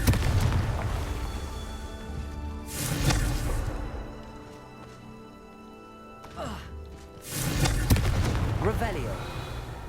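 Confringo blasting curse explosions in Hogwarts Legacy on PS5: a deep booming blast near the start, another burst around the middle, and a third loud boom later, each with a crackling rumbling tail, under game music.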